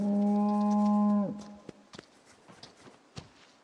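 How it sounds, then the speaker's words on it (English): A cow moos once in a video game, a long loud harmonic low from a farm animal that breaks off after about a second, followed by soft scattered footsteps and small clicks. "Cow."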